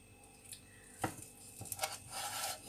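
A knife slices through egg and cucumber sushi rolls on a cutting board, a few soft quiet cuts and rubbing scrapes, close and faint with no talk.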